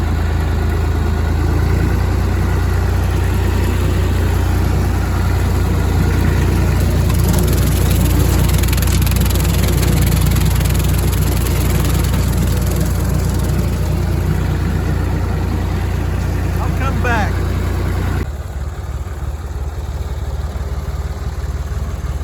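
A Massey Ferguson MF 50 diesel tractor engine runs steadily with a deep, constant drone, close and loud, shifting in tone partway through as a rotary cutter works the field, then settling lower toward the end.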